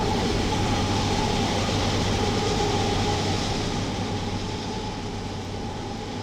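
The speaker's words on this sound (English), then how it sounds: "that deep bass hum that you hear whenever a train rolls by" Deep, steady bass hum of a diesel freight locomotive in Train Simulator, rolling by with a continuous low drone and faint rhythmic rail clatter, loud and constant, with no voices.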